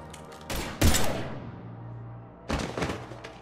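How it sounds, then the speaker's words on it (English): Gunfire in the video game Mass Effect 3: a loud burst of shots with a heavy boom, a fading echo, then another short volley. "Now open fire!"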